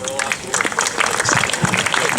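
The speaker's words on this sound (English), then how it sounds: "another round of applause for Michael Kraneski and Peter Betkoski" Audience applause at a Beacon Falls 150th anniversary celebration, a steady wash of clapping from a crowd sustained throughout, fairly loud and close with some voices mixed in.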